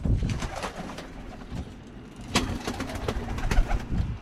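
Birmingham roller pigeons cooing in their nest boxes, soft repeated coos and rustling close by, with a louder burst of calls partway through and a faint engine hum in the background.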